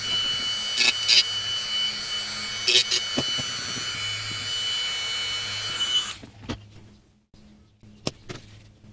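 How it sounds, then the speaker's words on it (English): A Dremel rotary tool trims a plastic Game Boy DMG replacement shell, a steady high whine for about six seconds with grinding bursts, then stopping and leaving scattered handling clicks. "So I think it's time for Mr. Dremel."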